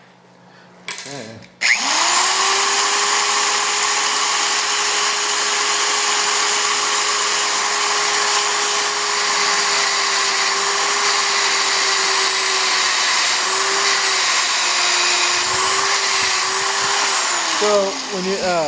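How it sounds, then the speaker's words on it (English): A magnetic drill with a stub bit spins up with a sharp start, drilling steel with a steady, loud whine for many seconds before winding down at the end. "a little tip when you're using a mag drill like this"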